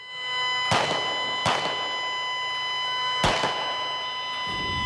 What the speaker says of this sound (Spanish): En ocasiones se escucharon disparos.